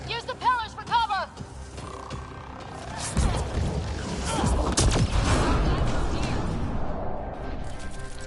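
Sci-fi gunfire in Mass Effect: Andromeda, bursts of shots and mechanical clatter building into a dense, loud firefight after a few seconds of creaking, chirping effects.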